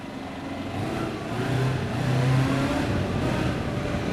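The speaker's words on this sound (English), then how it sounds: "You gotta rev your machine up when you go through them, right?" An Arctic Cat Diesel 700 side-by-side engine revs steadily while passing through a tunnel on a trail ride, a continuous close droning roar that swells slightly in the middle, with no talk.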